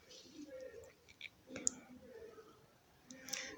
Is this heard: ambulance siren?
no